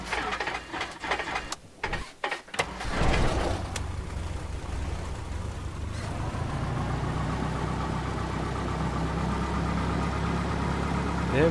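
A propeller aircraft engine in a flight simulator game catches after a few sputtering coughs and settles into a steady, droning idle that holds to the end.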